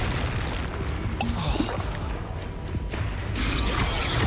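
Arresto Momentum spell cast in the Hogwarts Legacy video game, a dense rumbling boom with mechanical clanks and a bright whooshing burst near the end, loud and continuous.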